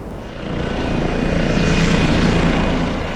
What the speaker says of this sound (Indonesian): Kapolda Kaltim dan rombongan tiba di Kabupaten Kutai Barat menggunakan helikopter AW169P3305 yang mendarat di Bandara Melalan Kubar